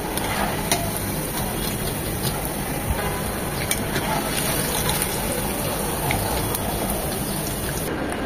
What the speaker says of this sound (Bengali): বড়াগুলো ভাজা হয়ে গিয়েছে।